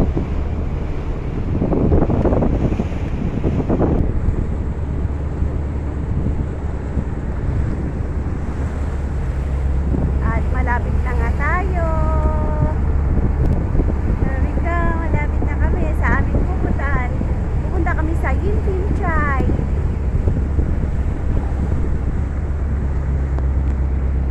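Wind buffets the microphone over a steady engine drone and splashing water as a boat moves across open water between Sai Kung Pier and Yim Tin Tsai, Hong Kong; voices talk intermittently.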